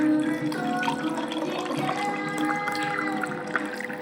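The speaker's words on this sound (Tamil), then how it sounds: "டம்ளரில் போட்டுட்டு இப்போ நம்ம தண்ணி ஊற்றிக்கலாம்." Plain water pours steadily into a tumbler of cut gooseberries, a continuous trickling splash at close range with nothing else over it.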